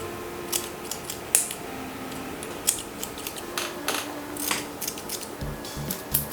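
Thinning scissors snip hair during a self-cut of a men's two-block style at the back of the head, with quick close metallic clicks repeating in short irregular bursts.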